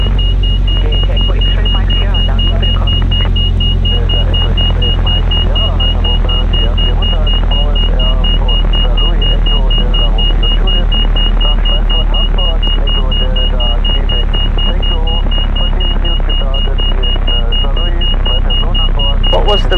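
A stall warning horn sounds as a steady, piercing continuous tone inside a Mooney M20J-201 cockpit on a local flight near Aachen, Germany, over the loud, constant engine drone while an instructor and student talk throughout.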